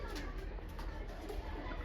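Pigeons, including young ones, cooing softly in a group, faint and low against a continuous background hum.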